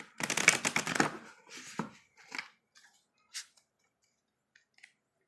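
A deck of cards is riffled in one quick, crisp burst up close, followed by a few soft taps and faint card clicks.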